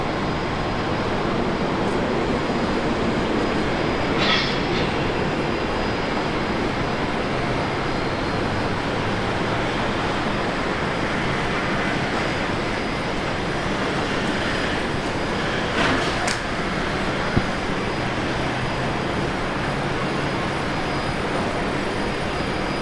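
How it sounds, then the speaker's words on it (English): A Jetstar jet rolls for takeoff at Brisbane Airport, heard as a steady, distant broadband engine rumble that holds even throughout without clear peaks. "Jetstar 57 rolling."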